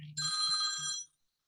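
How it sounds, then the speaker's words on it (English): A phone ringing nearby: a short bright electronic ringtone burst lasting about a second, then fading to silence, fairly quiet with no speech. "My phone ring and scared me."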